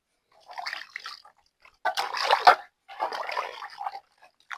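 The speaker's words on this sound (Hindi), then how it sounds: "सुबह सुबह वही गर्म पानी में हाथ धोना" Hands being washed in warm water early in the morning, heard as three separate bursts of splashing and rubbing, close and fairly loud, with quiet gaps between them.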